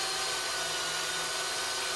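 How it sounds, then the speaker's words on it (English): A sharp electric chainsaw cuts steadily through wood, a loud continuous buzzing whine close by that holds without a break. "Obviously, this is an electric chainsaw"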